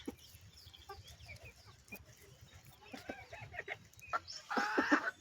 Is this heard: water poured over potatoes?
no